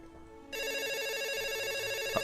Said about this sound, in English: Answer the phone, man.